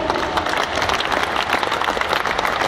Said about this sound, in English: Can we give Senthil also a big round of applause, please?